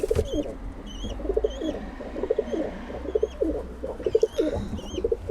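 Pigeons in a loft make soft, repeated rolling coos close by, with thin chirps scattered over a low background rumble.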